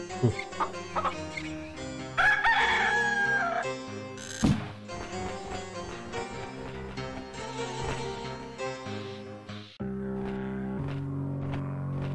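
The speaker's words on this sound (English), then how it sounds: "Here we go, the rooster." Rooster crowing inside the Discworld 2 point-and-click video game, a loud stretched crow near the start followed by clucking over layered game music and effects.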